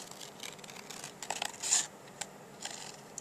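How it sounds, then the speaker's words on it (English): Scissors cut paper for a handmade purse mini album in a series of faint, close snips and rustles. There is no talking. "I just cut around it normally."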